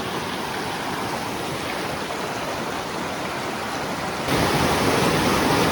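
Rushing water of a mountain stream near its mouth in the Bieszczady area, a steady broadband roar that holds constant and grows slightly louder near the end, with no voices.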